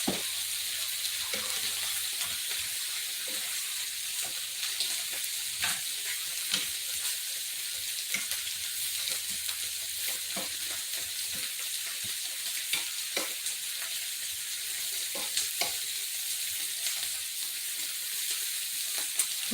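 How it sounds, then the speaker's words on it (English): Small Argentina shrimps sizzle steadily in a hot buttered pan while being stirred and tossed, a continuous close frying hiss dotted with light scraping clicks, no voices. "let's give these little shrimps one more toss"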